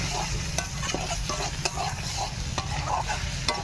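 Spiced curry with salt and chili powder stir-fried in a pan, a constant loud sizzle broken by repeated sharp spatula scrapes and knocks in an uneven rhythm, close up and without speech.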